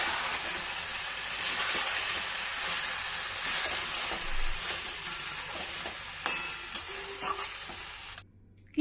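Chicken coated in a cashew-raisin paste sizzles steadily in a pan while being stirred, with scraping clicks of a spoon building toward the end before it cuts off abruptly.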